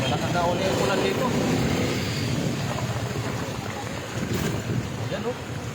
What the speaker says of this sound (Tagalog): Oh, malakas na uli yung ulan dito.